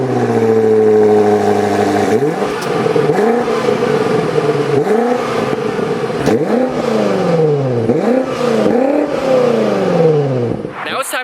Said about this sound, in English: And then this also features the M Sport exhaust.